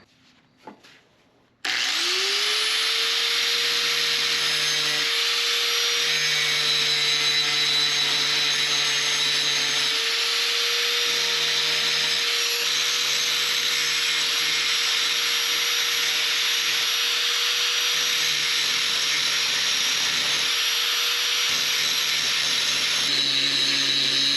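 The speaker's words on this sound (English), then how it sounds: "I'm just going to grind it down just so it'll fit on here" A power grinder spins up and grinds down a part for a four-stroke motorized bike, a loud steady whine that holds for over twenty seconds with slight dips in pitch as it bites into the metal before stopping.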